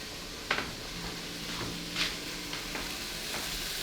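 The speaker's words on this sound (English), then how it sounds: "So now I'm gonna add the garlic." Garlic added to softened onions and celery in a hot pan, giving a gentle sizzle punctuated by a few sharp utensil clicks and scrapes.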